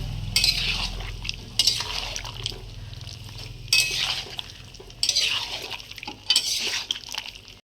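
A spatula scrapes and stirs chicken and fried potatoes in a pan, five close scraping sweeps at a steady, unhurried pace over a low background hum.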